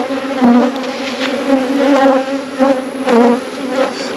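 Honey bees buzzing at an open beehive during a hive inspection, a close, steady, loud droning hum with swelling and fading pulses as individual bees pass near.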